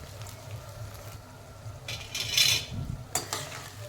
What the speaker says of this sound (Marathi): त्याच्यानंतर भिजवलेले पोहे आपण यात घालतोय.